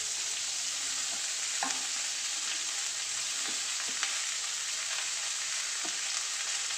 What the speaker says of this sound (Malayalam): നമുക്ക് ഈ സവാളയും പച്ചമുളകും എല്ലാം കൂടെ അങ്ങ് ചേർത്ത് കൊടുക്കാം.